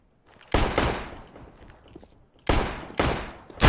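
Gunfire in Counter-Strike on the de_dust2 map, heard as two pairs of sharp, loud shots separated by a short gap, with faint footsteps and game ambience between them.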